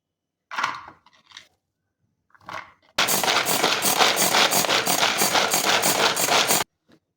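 A food chopper whirs loudly and steadily for about four seconds, crushing onion finely with a gritty crunch, after a few short bumps and clicks.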